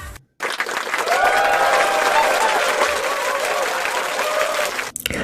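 A crowd applauds with dense, steady clapping that starts abruptly and holds at full strength for about four and a half seconds before cutting off.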